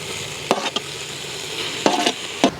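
Ginger garlic paste goes into a hot pan while village-style vermicelli chicken biryani is cooked, giving a steady sizzle with a few sharp stirring scrapes and clatters, no talk.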